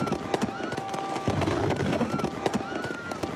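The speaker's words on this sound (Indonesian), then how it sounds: "kumpulan balon helium yang diterbangkan meletus di tengah lautan manusia karena terkena kembang api." Crackling fireworks burst and pop repeatedly over the steady roar of a large crowd at a celebration, with helium balloons bursting, voices shouting and chattering throughout.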